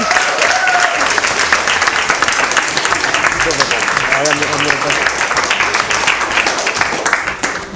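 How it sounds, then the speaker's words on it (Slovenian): A crowd applauds steadily and loudly throughout, with dense clapping and some voices mixed in. "dajmo aplavz za Francija"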